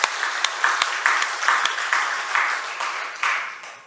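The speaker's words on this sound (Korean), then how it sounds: "우리 주님께 영광의 박수 드리겠습니다" A Korean church congregation at Sunday worship claps in a sustained wash of applause, with a few sharper individual claps standing out, moderately loud and steady for several seconds.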